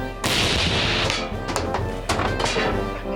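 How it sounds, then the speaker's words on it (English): A loud, close bang from magnesium ignited by an electrical spark inside a tin erupts and rings out into a rough crashing rumble, with a few sharper knocks following as it decays. "The electrical spark induces the oxidation of the magnesium metal, which in the confined space of the tin leads to an explosion."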